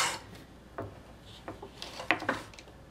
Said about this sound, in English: And draw some light guidelines.